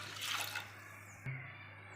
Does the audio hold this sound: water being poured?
yes